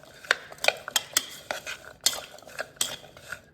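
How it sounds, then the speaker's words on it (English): Seasoned sweet potato pieces are tossed in a bowl, giving a string of crisp clinks and scraping knocks at an uneven rhythm, close and fairly quiet, with no voices. "And then you just give these a toss. Make sure everything is coated nicely."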